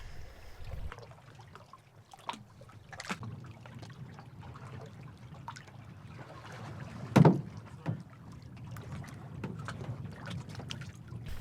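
Canoe paddling on Diamond Lake into a steady headwind, soft rhythmic paddle dips and water swishes over low wind rumble, with one louder splash or knock midway.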